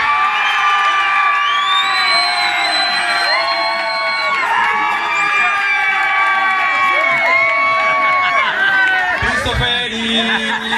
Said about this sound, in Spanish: Y un aplauso para ellos dos, por favor.